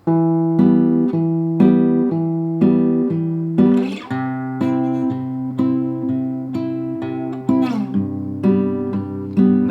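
A clean electric guitar plays a repeating riff of plucked notes from a song, ringing clearly with a steady rhythm and slight pattern changes, no voices.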